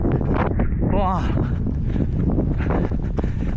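Strong typhoon wind buffets the microphone during a run in Zhuhai, a steady loud rumbling roar throughout, close and continuous, with a voice exclaiming and talking over it.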